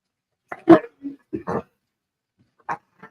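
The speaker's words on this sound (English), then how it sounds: "That's a happy dog." A dog gives a few short, quiet yips and whimpers in scattered bursts with silence between them, close by and fairly soft.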